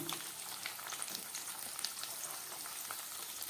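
Beans, carrot and capsicum fry in a pan for a veg moong dal, a steady close sizzle with faint crackles and light stirring, no voices.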